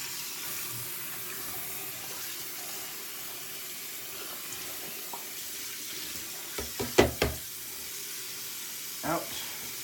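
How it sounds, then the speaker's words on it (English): Tap water runs steadily into a sink to rinse a Leaf razor during a head shave, a continuous broadband wash with a few louder splashes and knocks near the end. "we're gonna give it a rinse"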